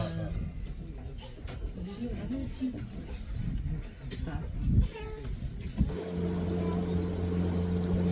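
An outboard boat engine drones on a river safari near a jungle lodge. Voices talk over it at first, then a steady low motor hum continues alone at close range.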